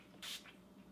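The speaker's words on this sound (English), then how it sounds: "Go ahead and give this a spray." A single quick hiss of a fine mist spray, short and soft, with a faint second puff right after.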